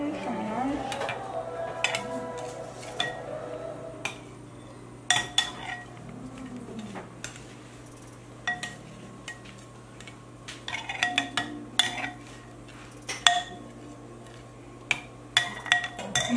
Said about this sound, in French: Et après ça, nous allons rajouter le lait. On mélange, on mélange.